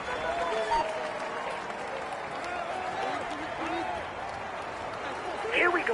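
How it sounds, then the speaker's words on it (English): A roadside crowd at a Tour de France individual time trial claps and cheers for a passing rider, a continuous wash of applause with shouts and voices rising near the end. "Come on, let's cheer him on as he deserves."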